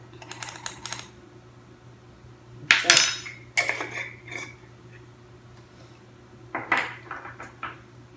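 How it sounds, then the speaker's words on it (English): Dry cookie ingredients, including salt and baking soda, being mixed with a spatula in a bowl, heard as sparse, sharp clicking and scraping taps in short clusters over a quiet hum. "And these are the dry ingredient I'm going to use with my spatula just to mix it all."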